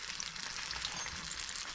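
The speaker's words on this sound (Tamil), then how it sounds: "இது மாதிரி எல்லா ஆப்பிளையும் நாங்கள் இந்த மாதிரி இந்த மாவில் வந்து டிப் பண்ணி போட்டு பொரிக்க வேணும்." Apple slices coated in batter fry in hot oil, giving a steady, dense sizzle that holds at an even level throughout with no talking over it.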